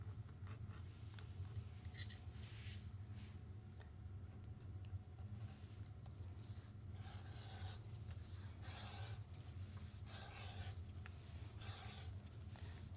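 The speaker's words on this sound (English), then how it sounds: "I'm using a number 3 Ron's edger" Number 3 Ron's edger being run along the edge of a handmade leather belt, a quiet rhythmic scraping in short repeated strokes over a low steady background hum.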